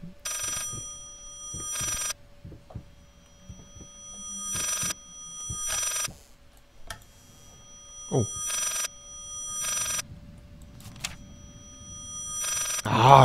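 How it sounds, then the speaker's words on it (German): An old telephone rings repeatedly in the horror video game Layers of Fear, bright regular bursts of ringing separated by pauses, with soft footsteps and quiet game ambience between the rings. "Und es klingelt ein Telefon."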